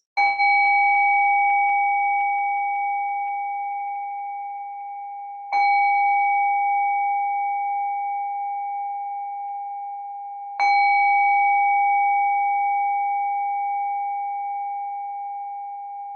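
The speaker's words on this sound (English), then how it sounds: "this particular bowl is very, very different in appearance and in sound than the other bowls." A singing bowl is struck three times at even intervals, each strike ringing out with a pure, sustained tone that slowly fades before the next.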